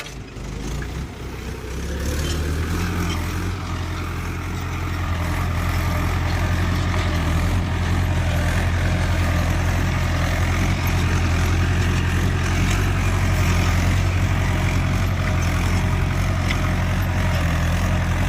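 Mahindra 585 DI Sarpanch tractor ploughing a field, its diesel engine droning steadily and loudly throughout with a deep low rumble and a slight rise after the first few seconds, no voices.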